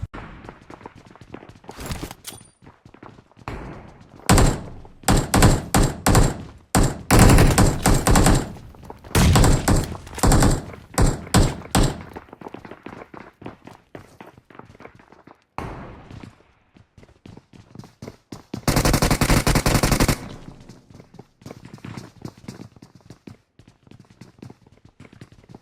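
Bursts of automatic gunfire in BGMI (Battlegrounds Mobile India) fusion mode, with loud rapid volleys separated by short gaps, dense spells around the middle and a final sustained burst, plus lighter footstep-like thumps between.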